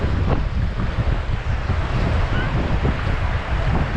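Ocean waves wash around someone wading through shallow sea water off Isla Holbox, a steady loud churn of surf mixed with heavy wind buffeting the microphone.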